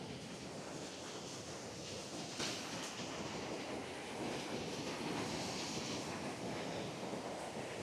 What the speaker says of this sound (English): we've got the roar of the Cathole waterfall.